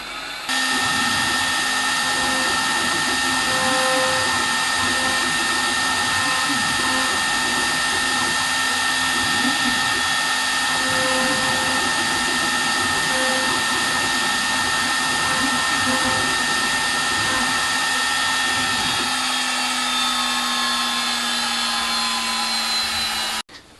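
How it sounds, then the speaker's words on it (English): A scratch-built CNC machine engraves ivory blanks, giving a continuous steady high whine from the spindle with a faint low rhythmic undertone from the moving gantry, loud and unbroken throughout. "I'm doing the engraving on my scratch built CNC machine."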